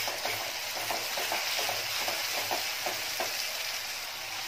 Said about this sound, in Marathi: त्याच्यामध्ये टोमॅटोची पेस्ट आहे टाकून घ्यायची आहे.